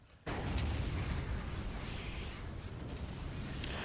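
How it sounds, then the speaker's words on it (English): Big guns firing in the Dark Crusade strategy video game: a sudden loud blast that opens into a sustained roaring rumble of heavy gunfire, steady and dense with no talk over it. "This is their firing animation for the big guns."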